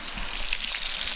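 Fish frying in oil over a fire on a remote island, a soft steady sizzle with faint crackles and pops, fairly quiet and with no talking.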